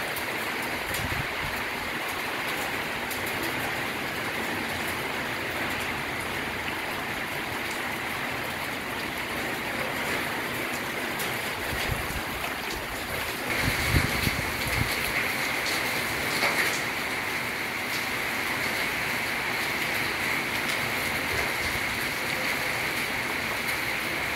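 Heavy rain pours in a steady, dense roar with strong gusting wind, holding loud and unbroken throughout with slight swells partway through.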